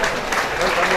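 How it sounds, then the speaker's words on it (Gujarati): Audience at a Gujarati Okha Haran Aakhyan recital applauding to welcome mandal members, a brief burst of many hands clapping close and loud, with a voice speaking over it. "થોડો તાળીઓથી વધાવી લઈશું આપણે."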